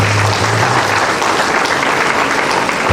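An audience gives steady, dense applause for the academic procession at an inaugural lecture, a close and continuous clapping that holds throughout.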